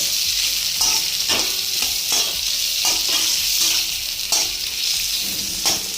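Capsicum and onions fry in a pan with a steady, bright sizzle. Rhythmic stirring strokes land about once a second, with no talking.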